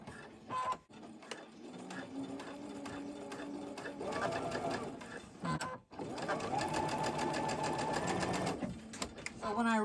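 A sewing machine stitching a long seam with its stitch length set to 4, a rapid rhythmic needle clatter in two bursts separated by a brief pause, running close and loud.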